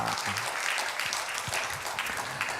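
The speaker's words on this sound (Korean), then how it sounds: "하나님께 영광의 박수 올려드리겠습니다" A Korean church congregation gives a round of applause during Sunday worship, brisk dense clapping at moderate distance, filling the brief moment evenly with no voices over it.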